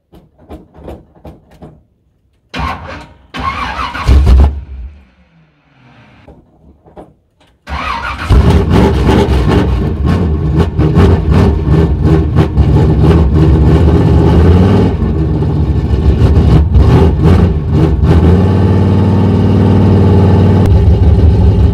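A Chevrolet C10 truck cranks in short bursts, then catches and settles into a loud, steady, rumbling run that holds close and continuous to the end.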